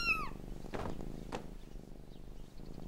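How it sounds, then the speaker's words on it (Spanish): A mother cat with her kittens, giving a short high meow-like call at the start, followed by soft rumbling purr-like bursts, close and fairly quiet, with no talking. "Está ronroneando, como Arlo."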